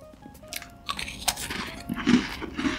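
Crisp crunching bites into a milk cookie followed by close, steady chewing, recorded intimately with no talking.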